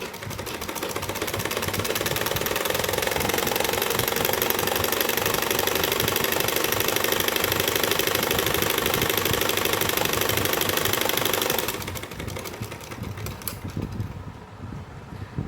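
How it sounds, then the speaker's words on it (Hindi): An electric sewing machine runs continuously, stitching the crotch seam of palazzo pants: a steady, loud, close whirring hum with rapid needle chatter for about twelve seconds, then it slows and stops into lighter handling noise. "तो सबसे पहले मैं आसन को सिलूँगी यहाँ से।"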